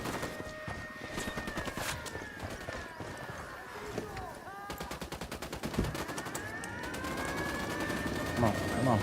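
Bursts of rapid automatic gunfire and heavy fusillades crackle in Ghost Recon as a machine-gun-armed helicopter attacks. Sharp repeated volleys come in clusters over a rumbling background while voices shout.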